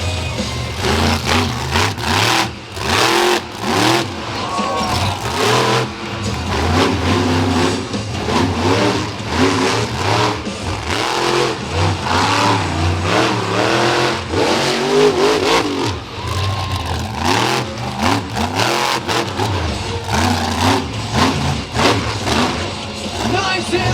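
Monster truck engines roar and rev at the Renegade Monster Truck Tour in Gaithersburg, Maryland: loud, sustained throttle surges and falling revs fill the arena, with an announcer's voice running over the din.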